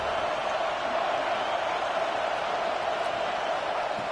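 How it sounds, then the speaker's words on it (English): Steady, dense roar of a stadium crowd in College Football 26, building before a red zone defensive stand, a continuous wash of massed voices with no distinct speech. "And here comes the noise. This crowd is trying to inspire this defense to make a big red zone stop."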